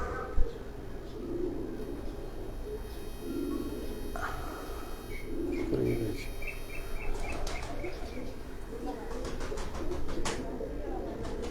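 Pigeons coo on a rooftop loft in Jalalpur Bhattian, soft repeated calls under a steady hiss of insects, while someone talks intermittently nearby.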